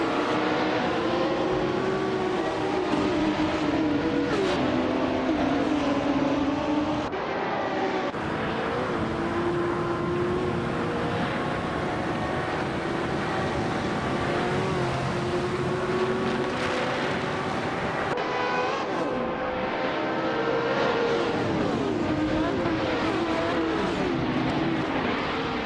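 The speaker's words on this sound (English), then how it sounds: "Hope you're ready for some exciting AI car races." AI-driven race cars in a nonstop racing video game roar continuously for the whole stretch, with several engines overlapping as they rev, shift and sweep past. No one speaks.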